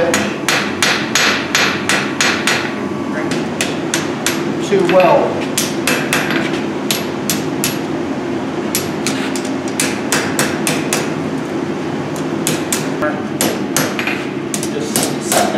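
A blacksmith hammers a horseshoe trivet on an anvil at a forge event, with steady rapid ringing strikes continuing throughout, close and loud, over a constant low roar and brief talk.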